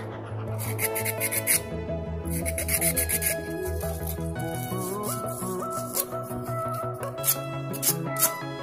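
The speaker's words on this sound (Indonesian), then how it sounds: "Ini juga kita amplas" Rasping sandpaper strokes on a homemade sugarcane-stalk fishing float in a quick repeated rhythm, fairly close, over steady background music.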